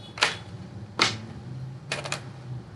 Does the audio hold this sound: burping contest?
no